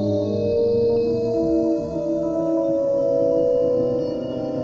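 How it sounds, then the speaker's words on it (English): Music generated from probes clipped onto a tree root in Alice Holt Forest, Hampshire, measuring its conductivity: soft, sustained synthetic tones drift and shift continuously, with a low, murmuring texture underneath. "This is the sound of Alice Holt Forest's Wood Wide Web."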